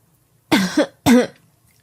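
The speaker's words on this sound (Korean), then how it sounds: "제가 전화를 받자마자 콜록거리더니 이러는 거 있죠?" Two sharp, hoarse coughs close up, the second following shortly after the first, with quiet surroundings before and after.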